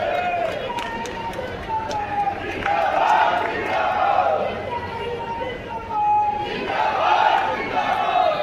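A large crowd at a public event in Kawardha greets Deputy Chief Minister Vijay Sharma with continuous loud cheering, shouting and clapping that swells and dips, while voices talk and call over the din.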